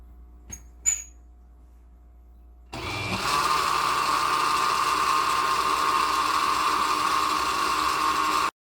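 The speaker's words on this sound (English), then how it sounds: "So now I'm going to blend." A blender whirs steadily and loudly, blending ingredients for a Caribbean curry crab in coconut milk, after a couple of brief clicks and knocks at the start. It runs for about six seconds and then stops abruptly.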